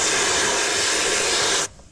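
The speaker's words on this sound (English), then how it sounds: "start recovering the refrigerant" Refrigerant rushes out of a car AC system being opened for recovery, a loud, close, steady hiss that cuts off abruptly after under two seconds.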